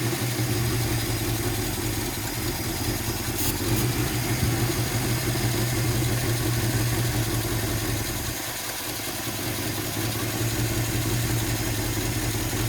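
A 1957 Chevy Bel Air's engine runs after a restart following 15+ years of sitting, with a steady rough idle and slight surging, heard close and continuous with a brief dip near the end and no speech.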